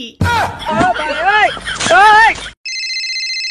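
Loud voices talk over each other, then a phone starts ringing alone with a steady electronic tone.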